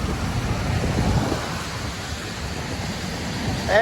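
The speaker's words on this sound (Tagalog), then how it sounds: "medyo lumalakas na yung ulan" Steady broadband hiss of rain with wind noise on a foggy city street, building slightly louder toward the end, no voices.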